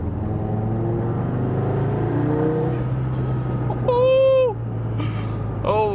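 An Audi TT RS in dynamic mode downshifts, its engine rumbling near and loud with a sharp rev blip, under people talking and exclaiming.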